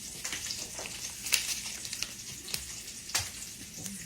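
Sausage sizzles and crackles in grease in a skillet, a soft steady fry with scattered sharper pops and stirring clicks, fairly quiet and close with no talking.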